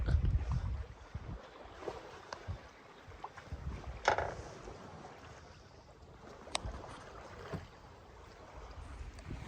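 A sailboat moves at 3 knots through water at night in 6 knots of wind off Greece, with a soft continuous wash, occasional creaks and knocks, and light wind noise on the microphone.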